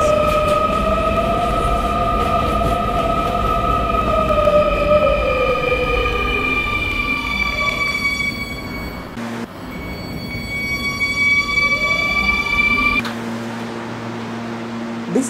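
An R220S 7 Express subway train in the Roblox game PTA Classic runs with rising and falling motor whines over a steady rumble, a short break midway, then a lower hum as it slows.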